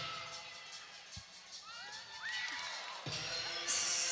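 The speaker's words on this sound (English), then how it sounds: "And our home crowd get into it." A home crowd at a college women's gymnastics meet cheers and whoops during a floor exercise routine, a moderate swell of shouts and high calls rising toward the end.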